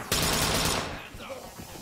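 Loud burst of rapid automatic gunfire in a tactical shooter video game during a room-clearing entry, roughly half a second of dense overlapping shots that then decays into quieter room noise with faint voices.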